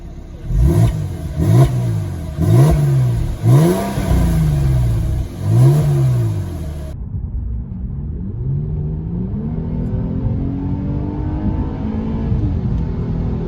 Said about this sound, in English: I'll give you some revs right now, so I'll play that.